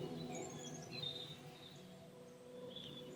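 Faint spring dawn chorus outdoors, with scattered thin bird chirps and trills over a soft insect-like chirring background, distant and quiet throughout.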